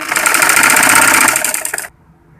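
A sewing machine runs continuously, stitching a double-folded fabric edge for a frock, loud and close with a steady whirring chatter for almost two seconds before stopping abruptly.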